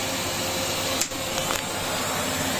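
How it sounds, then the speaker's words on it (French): A vacuum cleaner works over a driving-school car's interior, a continuous close-up roaring whir with a couple of brief bumps and suction changes partway through. "je vais repasser l'aspirateur dessus"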